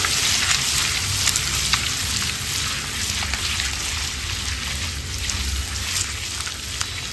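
Eggs fry in a pan with turmeric and Kashmiri chilli masala, giving a loud, close, continuous sizzle and spattering crackle with light stirring throughout.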